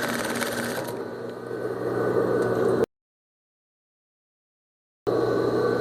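A sewing machine stitches the folded hem of a festa junina skirt with a steady mechanical whir, close and continuous, then cuts to silence for about two seconds before the same motor hum resumes.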